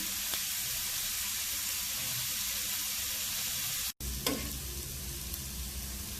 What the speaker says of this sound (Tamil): கொஞ்சம் வெங்காயம் ப்ரௌன் ஆகிற வரையும் வதங்கணும்.